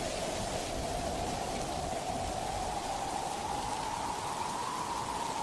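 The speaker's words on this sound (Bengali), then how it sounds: "বৃষ্টি" Steady rain pours down over a river where people are being rescued by boat, a continuous dense hiss with no breaks, close and loud throughout.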